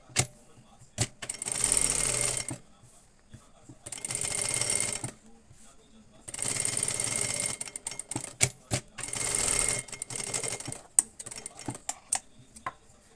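A domestic sewing machine stitches a katori blouse in bursts of steady whirring, with three long runs separated by pauses filled with scattered clicks and handling noises, fairly close and moderately loud.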